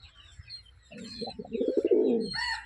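A silver-coloured Abluk pigeon, restless while being held, gives low cooing calls with some soft fluttering and scuffling, close by and moderately loud, with chirpy bird sounds rising near the end.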